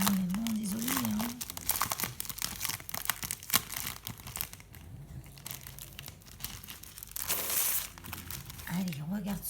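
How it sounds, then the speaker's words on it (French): Scrapbooking paper rustling and crinkling as sheets are handled and sorted, irregular bursts of crackle and crumple close by, broken by a brief hum-like vocal tone and some quieter gaps. "J'en fais du bruit avec mon papier"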